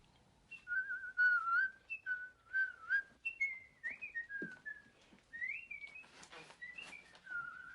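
A person whistles a melodic tune of short rising and falling phrases, fairly quiet and clear, with a brief soft thump midway.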